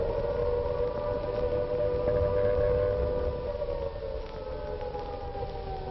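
Air raid siren wailing over London in 1940, a loud, sustained rising and falling tone that fills the whole stretch, with a faint rumble beneath and no voices.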